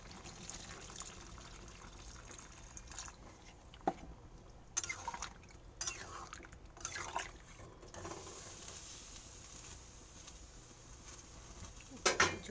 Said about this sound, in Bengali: তার জন্য কিছুটা জল ঢেলে দেবো।